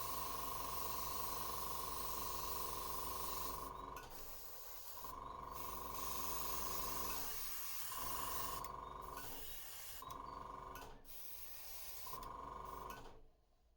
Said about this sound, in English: I spray it on top and a little on the sides.